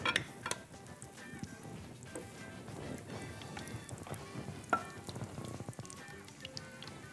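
Steady crackling sizzle of dough frying in hot oil, with dense popping and an occasional sharper spit, heard close up and fairly quiet.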